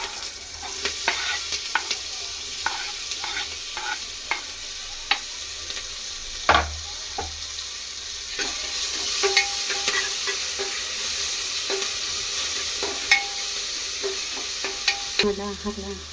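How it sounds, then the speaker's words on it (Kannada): Onion, tomato and curry leaves fry together in an oiled pan, giving a continuous sizzle broken by clicks and scrapes of stirring, with a few sharper knocks, all close and with no voices. "ಇವಾಗ ಇದಕ್ಕೆ ಈರುಳ್ಳಿ, ಟೊಮೆಟೊ, ಕರಿಬೇವು ಒಟ್ಟಿಗೆ ಹಾಕ್ಬಿಡ್ತೀನಿ."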